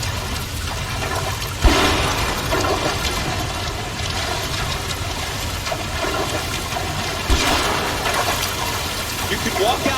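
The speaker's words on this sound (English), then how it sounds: "The water's rising." Rising water rushes and gurgles steadily in L.A. Noire, a loud continuous wash with a couple of sudden surges partway through.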